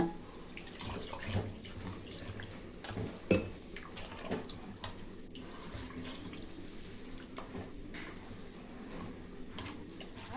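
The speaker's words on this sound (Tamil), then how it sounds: "தேவையான அளவு தண்ணி ஊற்றிக்கோங்க" Faint, continuous water pouring and splashing into a vessel while making koozh (millet porridge), with a few light clinks of utensils in the background.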